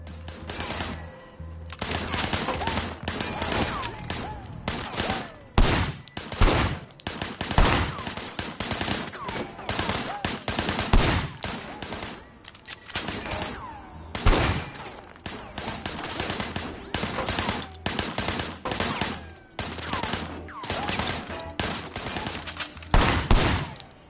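Gunfire from the video game Sleeping Dogs rattles in rapid bursts and sharp single shots, loud and close, continuing densely throughout with brief gaps between volleys.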